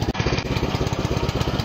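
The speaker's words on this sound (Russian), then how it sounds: "Хочу завести трактор" A small farm tractor engine chugs steadily at close range, its rapid, even mechanical pulsing running loud and continuous throughout.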